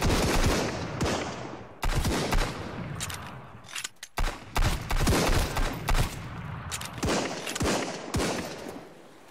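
Dense, rapid gunfire from crossbows and pistols in the survival video game Sunkenland, with bursts of shots crowding together in repeated clusters. It is loud and close, with brief pauses between volleys.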